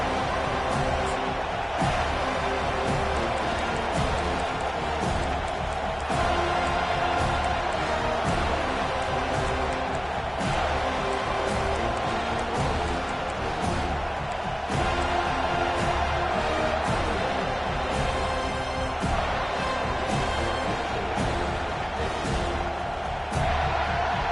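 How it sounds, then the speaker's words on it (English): Dense, roaring football stadium crowd urging on the defense on third down in a Memphis vs FSU game, a loud continuous wall of noise that swells throughout. "Decibels rising as the crowd gets behind this defense on third down"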